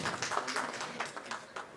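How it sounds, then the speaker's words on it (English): A brief, fairly faint burst of audience applause for a speaker at a design talk, with dense overlapping claps. "Can we have a round of applause for ma'am?"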